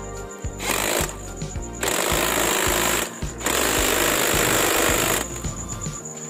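A power impact tool tightens a nut on the engine of a Honda Vario 150 scooter, loud rattling hammering bursts with short pauses between them, close and with no talk.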